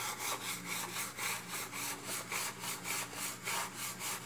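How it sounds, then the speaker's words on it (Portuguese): A sponge scrubs old, greasy grease off a pot lid in rhythmic back-and-forth strokes, about a dozen even rasping passes, close and steady with no voices. "Vou ver se consigo esfregar aqui com a esponja"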